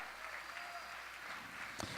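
A church congregation claps together during a service, a steady wash of applause with a sharp knock near the end, moderately distant.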